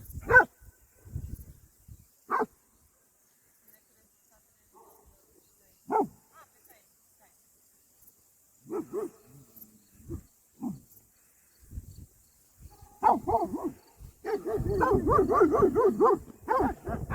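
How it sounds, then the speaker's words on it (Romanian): A dog barks in short, scattered bursts at a distance in a mountain forest at night, with quiet gaps between, then a louder stretch of rustling and movement near the end. "Se aude unul lătrând."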